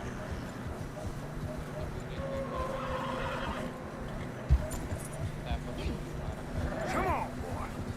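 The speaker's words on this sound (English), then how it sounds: "Horses are getting tired." Horses in Red Dead Redemption, travelling through fresh snow on a narrow trail: a whinny and snorts over steady hoofbeats, with people talking throughout.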